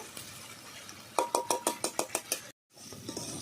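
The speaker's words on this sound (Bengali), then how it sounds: "আলুটা বড় বড় করে কেটেছি ভালো করে এক মিনিট আমি কষিয়ে নিচ্ছি" Large new-potato chunks being sautéed in a pan for a spicy stingray curry, a quick run of about nine rhythmic clinking spoon-and-pan strokes, close and moderately loud, then a brief silence and soft background clatter.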